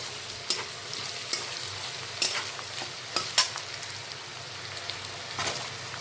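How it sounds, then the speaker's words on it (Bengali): Onions frying with ginger and garlic in a pan, a steady soft sizzle under scattered scraping clicks of stirring, close and even throughout with no one talking. "আমি পেঁয়াজগুলোকে সামান্য লালচে করে এখন ভেজে নিচ্ছি।"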